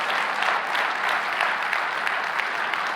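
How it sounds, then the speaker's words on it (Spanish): A church congregation applauds during a Sunday service, a steady dense wash of many hands clapping that fills the space at even loudness without a break, with no voices rising above it. "Denle un aplauso al Señor"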